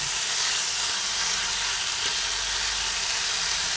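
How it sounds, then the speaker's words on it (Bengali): Vegetables frying in a pan on a medium gas flame with no water added, giving a steady, close sizzle and hiss that holds evenly throughout with no talking. "ভালোভাবে নাড়াচাড়া করে গ্যাসের ফ্লেমটা মিডিয়ামে রেখে এটা আমি ভেজে নিচ্ছি।"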